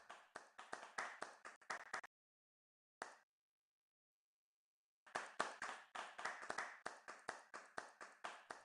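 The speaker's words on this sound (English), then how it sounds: "You will hear the sound of claps." Virtual clapping sound effect at an online metaverse meet-up: crisp, evenly spaced claps in two runs separated by a short gap with a lone clap, close and clean against silence.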